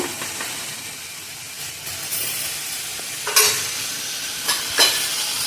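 Ivy gourd stir-fry being stirred in a pan after homemade chili powder is added, with a steady sizzle and soft scraping strokes, a few louder clanks and scrapes standing out near the end.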